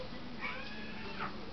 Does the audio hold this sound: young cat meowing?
yes